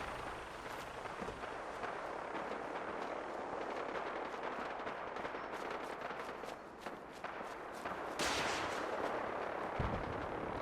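Fallout 4 combat as a super mutant fires a missile launcher, with a dense barrage of sharp bangs and rumbling blasts, footsteps and gunfire layered throughout, and a heavier burst near the end.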